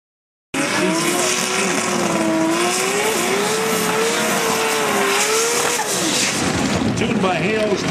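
A turbocharged drag racing car makes its run, its engine a loud, sustained roar from start to finish with a wavering, rising and falling tone and some tire noise, while a commentator talks over it.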